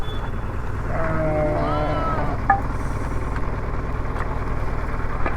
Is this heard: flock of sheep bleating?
yes